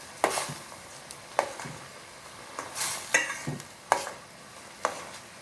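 Squid with spring onions stir-fried in a pan, sharp spatula scrapes and clanks recurring every second or so over a light sizzle, close and fairly loud.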